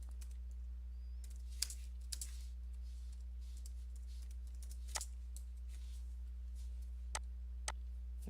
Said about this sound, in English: So you literally are just typing and copying over your information.